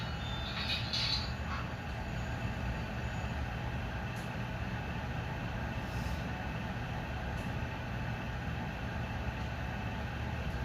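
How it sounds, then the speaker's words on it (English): An HO scale model train runs steadily on its track, a continuous rumbling clatter with faint higher clicks, fairly loud and close, with no talking. "I'm going to get some trains started."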